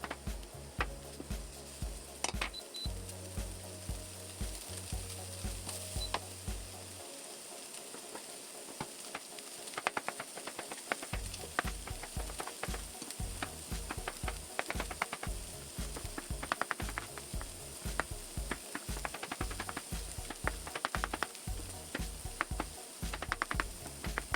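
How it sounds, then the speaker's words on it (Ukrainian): Sliced mushrooms fry with onions in a pan, giving a steady close sizzle under an ongoing mechanical rattling and clicking, with no voices. "Нарізані гриби додаю до цибулі і обсмажую до готовності."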